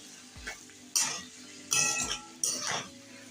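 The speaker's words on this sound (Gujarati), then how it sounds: "હવે ટમેટું અને ખાંડ આપણે સરસ રીતના મિક્સ કરી લઈશું" Tomato pieces and sugar are stirred together in a cooking pan for a potato poha dish, giving three distinct scraping clinks of a utensil against metal at a steady interval, close and moderately loud, with no talking.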